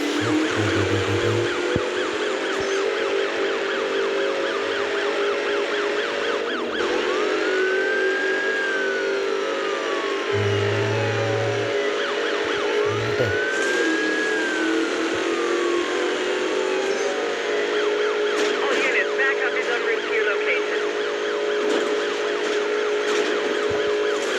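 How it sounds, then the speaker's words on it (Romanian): Police sirens wail continuously nearby, their tones rising and falling in long sweeps over the steady rumble of traffic. "Mamă, două mașini de poliție, wow!"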